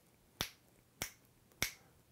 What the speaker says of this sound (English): If I were to snap my fingers at more of a reasonable rate for a song